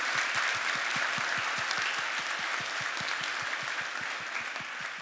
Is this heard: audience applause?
yes